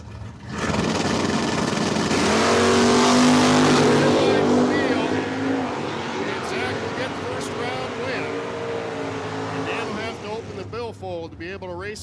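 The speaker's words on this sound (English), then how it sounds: "over here in the red Pontiac, taking on Zach Lewis in his Camaro." A red Pontiac and a Camaro drag racing at Cordova Dragway roar loudly off the line and fade as they pull away down the strip, with an announcer talking over the engines.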